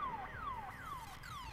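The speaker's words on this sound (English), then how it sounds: "And I guess we are turning off the alarm" An alarm in the video game Days Gone repeats falling electronic whoops, four or five rapid descending sweeps in a steady cycle, moderately loud with a low rumble beneath and no talk.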